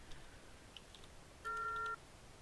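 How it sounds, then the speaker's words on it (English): A single steady electronic beep from a game's chat filter setup confirming an action, clear and fairly close, lasting about half a second over a quiet background. "The beep lets you know that you've done it."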